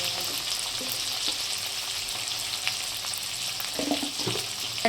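Chopped onions with a little turmeric powder sizzle steadily in a pan, a close, even frying hiss with occasional soft stirring scrapes and no talk.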